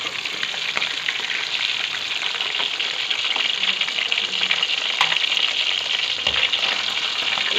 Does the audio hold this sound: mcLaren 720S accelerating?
no